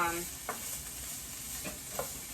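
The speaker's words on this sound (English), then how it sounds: "we're gonna cook that for 2 to 3 minutes or until the onion is slightly translucent" Onions and other vegetables sauté in a skillet for shakshuka, giving a steady faint sizzle with a few brief stirring scrapes at intervals.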